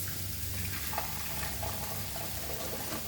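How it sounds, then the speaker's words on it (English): A cup of water is poured into masoor dal khichdi, a lentil and rice dish, making a soft, continuous rushing and sizzling wash at low volume with no talk. "Now we will add 1 cup of water to this"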